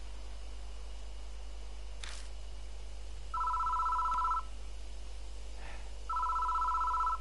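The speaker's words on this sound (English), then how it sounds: "The phone is ringing." A telephone rings in a horror video game, two sharp electronic trill bursts separated by a pause over a steady low hum and faint ambient noise.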